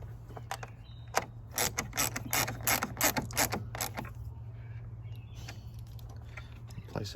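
A ratchet wrench tightens the positive terminal on an Anderson plug kit, giving a close series of quick clicking bursts, then slower, fainter clicks over a low hum.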